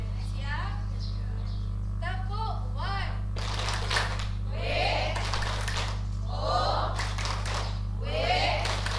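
A group of teachers doing a rhythmic 'tepuk' clap chant at a positive-culture session, a burst of quick patterned hand claps in sets, mixed with chanting voices over a steady electrical hum.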